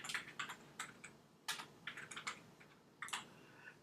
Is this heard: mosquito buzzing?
no